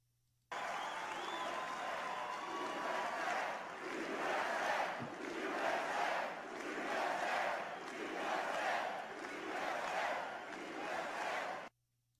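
A large stadium crowd chants in unison in rolling, repeated swells, loud and sustained for about eleven seconds, with a roaring wash of many voices and no single speaker standing out.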